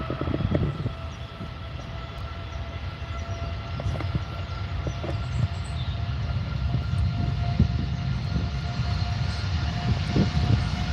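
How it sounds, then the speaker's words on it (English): TUI Boeing 787 Dreamliner on its takeoff roll at Manchester Airport, a deep rumbling engine roar with a steady tonal whine and low throbbing, gradually building in loudness, no speech. "TUI Dreamliner on the roll"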